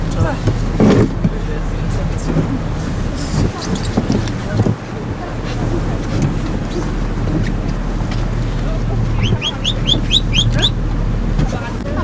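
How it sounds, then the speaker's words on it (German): Norwegian sea eagles give a quick series of high, yelping calls late in the clip, heard over wind and a low ship engine rumble on the Norwegian coast, with people talking. "Das sind die norwegischen Seeadler."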